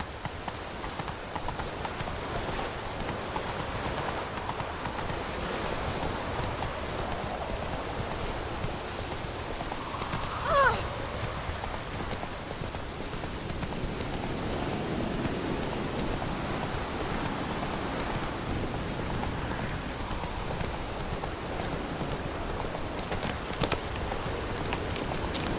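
Roach the horse from The Witcher 3 galloping, hooves thudding in a steady clip-clop rhythm under light rain, with a brief tonal sound partway through.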